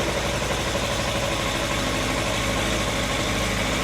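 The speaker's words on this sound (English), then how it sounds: "So the bike starts up, no problem at all. I warm it up a little bit now so I can set the idle." A Suzuki Bandit motorcycle engine idles steadily while warming up, a continuous close rumble with an even low-frequency pulse and no talking.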